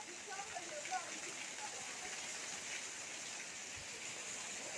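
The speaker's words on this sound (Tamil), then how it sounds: "நல்ல மழை." Heavy summer rain falls in Mumbai as a soft, steady hiss of rain on surfaces, fairly faint and even throughout, with a few scattered drops standing out.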